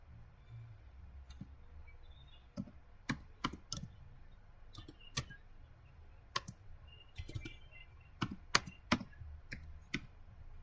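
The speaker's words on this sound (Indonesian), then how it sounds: "kita bisa ketikkan rmdir" Typing the rmdir command on a computer keyboard: a string of sharp, close key clicks in irregular bursts over quiet background hiss, with no voice.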